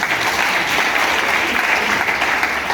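Audience applause fills a public gathering in Côte d'Ivoire, a steady, dense burst of clapping from a large crowd, loud and sustained throughout without pause.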